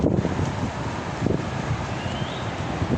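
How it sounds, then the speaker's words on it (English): Heavy wind buffets the microphone with a constant rumbling roar, loud and unbroken for the whole stretch. "it's too windy, you can't hear anything"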